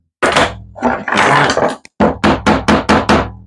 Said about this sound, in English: Just pull it tight and shoot it with a staple right in the middle.